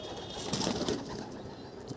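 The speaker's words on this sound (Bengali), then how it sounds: "এটা হচ্ছে ওর মাদি পায়রা" A female pigeon coos softly in a home loft, a low, murmuring call that rises and falls over a faint, steady background hiss.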